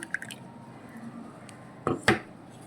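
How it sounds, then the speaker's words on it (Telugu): Blended pulp stirred into sour buttermilk in a bowl to make a liquid plant spray, giving a few wet, squishy splashes and drips close by with no talking. "ఈ మిక్సీ చేసుకున్న గుజ్జుని పుల్లకి మజ్జిగలో కలపాలి"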